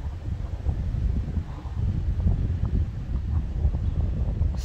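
South-east wind blowing during a supercell thunderstorm near Voiron, Isère, a steady low rumbling gust buffeting the microphone throughout, with no voices.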